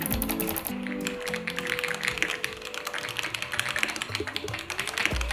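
Rapid typing on a plastic-housing mechanical keyboard in a keyboard shop, dense clicky keystrokes in a steady stream, close up, with faint low tones underneath.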